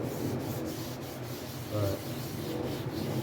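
Continuous close rubbing of sandpaper over the first layer of clear coat on a burnt orange Telecaster guitar body, a steady dry scratching with a few brief pauses.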